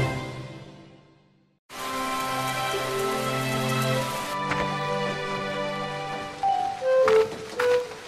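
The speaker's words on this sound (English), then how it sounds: "Go away, rain, said Cat" Rain falling in little and big drops, a steady close patter on surfaces with music playing over it and a few louder drip sounds near the end.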